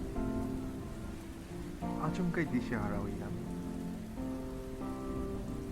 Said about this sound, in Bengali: বৃষ্টির ঝুমঝুম শব্দ অবিরত।